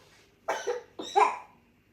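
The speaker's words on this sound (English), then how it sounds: "Does anyone else panic a bit when the baby coughs?" Two short, soft coughs from a newborn baby, a pause between them, close by in a quiet room.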